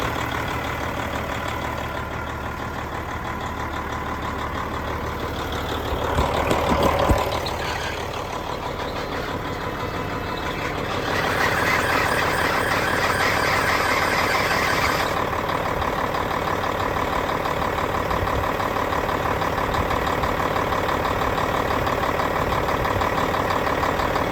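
A truck engine idling and running after a repair, with a steady low rumble. Around the middle a brief louder burst is heard, then the engine is revved a little and holds a somewhat higher, busier drone, fairly close, with no talk.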